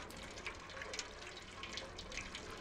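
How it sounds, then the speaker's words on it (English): Tap water runs steadily in the video game Stray, a continuous broadband splashing hiss with small bright spatters, fairly close and alone. "Oh, water."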